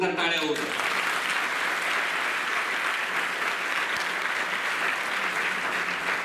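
Loud, sustained applause from a student audience at a cyber-awareness program fills the room after a brief spoken phrase at the start, with steady dense clapping continuing to the end.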